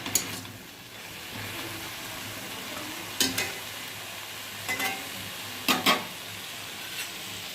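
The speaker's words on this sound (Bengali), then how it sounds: "এদিকে পাঁচ শাক ভাজা হচ্ছে" Pach shak, a mix of five greens, frying in a pan with a soft steady sizzle, broken by a few sharp spatula scrapes and clinks of stirring.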